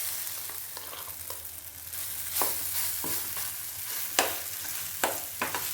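Ground coconut chutney made with two kinds of lentils is stirred into a hot tempering in a pan, giving a soft steady sizzle broken by scraping spoon strokes.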